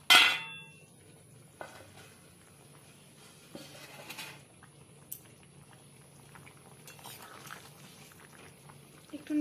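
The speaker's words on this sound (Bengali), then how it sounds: "একটু নেড়ে চেড়ে নেওয়া হচ্ছে" Prawn and elephant foot yam curry is stirred in a wok, giving quiet metal scrapes and clinks over a soft simmering bubble, with one louder clatter at the start.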